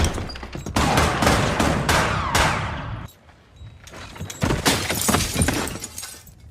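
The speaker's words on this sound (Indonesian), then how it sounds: "muncullah suara tembakan dari dalam" Gunfire in a cowboy film, a rapid volley of loud, close shots with a sharp crack and breaking debris, then a brief lull and a second burst of shots.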